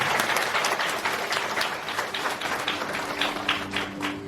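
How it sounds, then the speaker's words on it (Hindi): A church congregation at a Baptist youth seminar claps together in praise: loud, dense, sustained clapping that fills the room steadily, with a faint low hum underneath. "ताली बजाकर परमेश्वर को महिमा दीजिए।"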